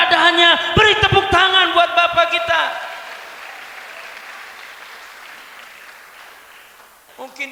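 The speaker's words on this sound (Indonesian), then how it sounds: "Beri tepuk tangan buat Bapa kita." Applause from a church youth retreat congregation swells after sung or spoken tones fade, a steady wash of clapping that gradually thins out, with a brief voice near the end.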